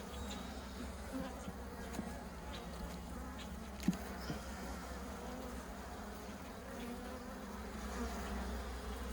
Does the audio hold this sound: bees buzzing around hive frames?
yes